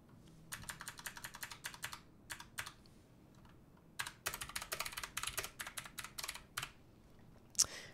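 Rapid clattering keystrokes on a computer keyboard come in quick bursts separated by short pauses, close and fairly clear, ending with one sharper key hit; no one speaks.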